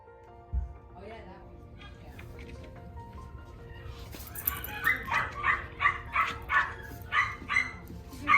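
Rowdy puppies yapping and barking in a rhythmic run of about ten high, quick barks, fairly close, with a low thump early on and background murmur beneath.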